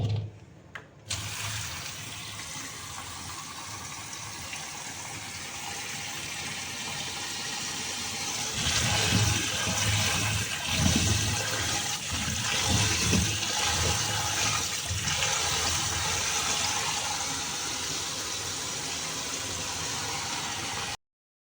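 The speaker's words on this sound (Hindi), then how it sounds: "फल, इसको भी धो लेते हैं।" Tap water runs steadily, hissing and splashing as a Kashi phal (ash gourd) is washed under it at a home sink. The flow is close and continuous, growing louder and busier partway through, with no talking.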